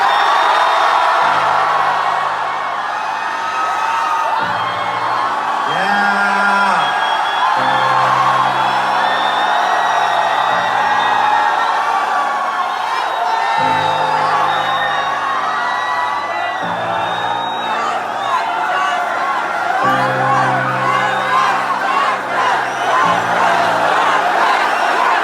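Large concert crowd at a show in Beijing cheering, whooping and shouting for a performer, a long sustained roar, with a repeating low musical pattern underneath.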